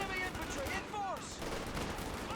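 Grenadier squad gunfire in Company of Heroes 2, rapid rifle and machine-gun shots crackling through a busy battlefield mix with whistling effects, moderately loud, with a voice talking over it.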